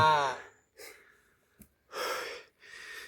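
Heavy, effortful breaths of a hiker pausing to rest on a mountain trail, several loud gasping inhales and exhales in short bursts, with a voice briefly at the start.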